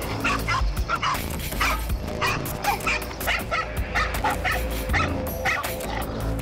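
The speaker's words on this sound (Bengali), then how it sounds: "গ্রামের রাস্তায় এই কুকুরগুলো একটি ভয়ঙ্কর কোবরাকে আক্রমণ করে বসে" Several village dogs attacking a cobra on a rural road, barking, yipping and whimpering in rapid, overlapping bursts, loud and close throughout.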